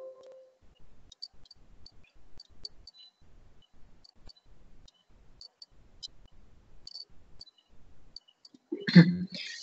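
Sparse, faint computer mouse clicks tap out in a quiet room, single and double clicks scattered irregularly, followed by a brief louder rustle at the end.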